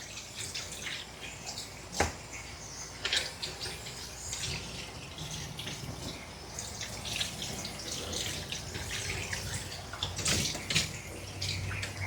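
Running water rinses a shih tzu during a home bath, a steady close splashing and spattering stream that lasts throughout, with sharper splashes now and then and no talking.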